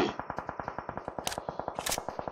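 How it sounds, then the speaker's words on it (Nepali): Rapid automatic gunfire from a battle royale video game fires about twenty evenly spaced shots in a quick burst. It is loud and crisp, with a couple of sharper, brighter impacts near the end and no voices. "उहाँलाई चाहिँ सिएमतिरबाट चाहिँ फायरिङ भइरहेको छ"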